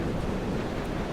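Wind gusting while climbing in the video game Dear Esther, a steady broadband rush with low rumble, continuous and fairly loud throughout the short moment, with no voices.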